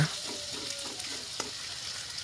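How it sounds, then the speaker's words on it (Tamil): Continuous crackling sizzle of green chillies frying with onions in a hot pan, with a few light stirring scrapes and a soft clink, close up and without speech. "அதையும் நல்லா வதக்கி விட்டுடலாங்க"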